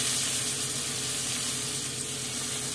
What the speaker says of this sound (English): it's going to take about 6, 7, 8 minutes to properly sear this steak